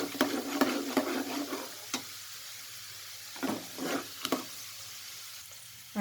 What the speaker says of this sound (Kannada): ಎಲ್ಲ ಸಣ್ಣ ಉರಿಯಲ್ಲೇ ಹುರ್ಕೋಬೇಕು, ತುಂಬ ಹೈ ಫ್ಲೇಮ್ ಇಡಬೇಡ್ರಿ.